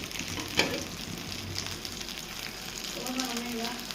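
Thin fish frying in a pan, a steady low sizzle with a brief clatter near the start and faint voices in the background.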